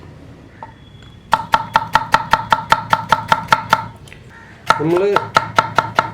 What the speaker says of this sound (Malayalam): നമുക്ക് വെണ്ടയ്ക്ക കട്ട് ചെയ്തെടുക്കാം